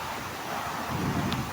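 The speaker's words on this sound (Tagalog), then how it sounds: "Humahangin." Wind blowing at a waterfall in Nueva Vizcaya, a broad steady rush of air and water noise with gusty buffeting and slight swelling toward the end, no talk.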